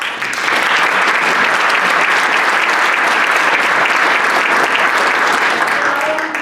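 Rotary meeting audience gives a loud, sustained round of applause, dense overlapping clapping holding steady for several seconds, with a faint voice briefly audible near the end.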